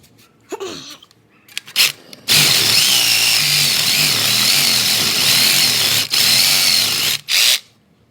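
A power saw blade grinds through a tough weld on the exhaust of a 2015 Suzuki GSX-R 750 during a cat delete, running loud and steady for several seconds with brief dips, after a few short bursts.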